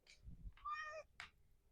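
Spicy, a pet cat, gives a clear drawn-out meow indoors, close and moderately loud, framed by a couple of shorter chirpy sounds and soft rustling.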